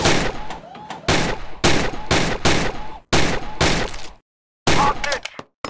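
Rapid gunfire in the VR shooting game Gun Club VR, around eight loud, close shots in an uneven rhythm with a brief pause before a final burst, a game voice faintly mixed in.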